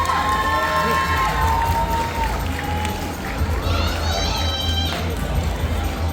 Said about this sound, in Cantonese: 將你哋最熱烈嘅掌聲再次送俾 Pixel HK。